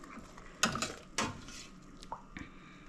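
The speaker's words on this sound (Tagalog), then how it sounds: "lalagay ko na itong tilapia" Pieces of tilapia dropped into a pot of sinigang, a couple of distinct splashy clunks against the metal pot followed by lighter clatter and soft simmering.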